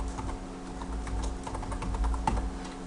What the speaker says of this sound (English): I'm going to go ahead and type in the password for the user2.